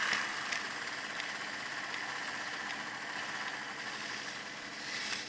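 Replacement motor in a repaired Penn Alco PA model locomotive running steadily with a rough, slightly uneven hum and buzz, close up and continuous for the whole stretch, with no talk over it.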